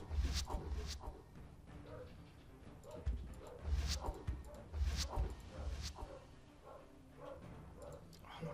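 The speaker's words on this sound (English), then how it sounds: "Sorry if you can hear the dogs screaming upstairs." Dogs barking, yipping and whining upstairs, heard through the floor as irregular bursts of muffled barks and whimpers over several seconds, mixed with faint background noise.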